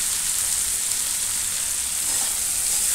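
Fiddlehead fern pickle mixture frying in a pan, giving a steady, close, even sizzle with a soft hiss throughout and no voices.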